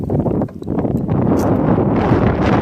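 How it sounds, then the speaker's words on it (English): Strong gusts of outdoor wind buffet the microphone, giving a loud, continuous low rumble that surges and dips, with a brief lull early on. "this wind is attacking me from behind"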